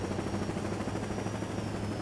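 A helicopter in the 2022 Saints Row video game gives off a steady, loud, droning rotor rumble that fills the short stretch without a break, with no talking over it.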